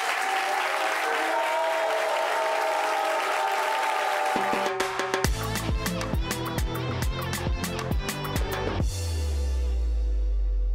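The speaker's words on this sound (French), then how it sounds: "Applaudissements pour Madame Pont, s'il vous plaît." A studio audience claps for a guest being welcomed on a French-language talk show. The steady applause lasts several seconds, then a rhythmic music sting takes over and ends on a deep bass hit.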